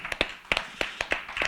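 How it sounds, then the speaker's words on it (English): Scattered hand claps from a small audience at a country music lounge session, a handful of sharp separate claps close by with no voices. "Give him another round of applause."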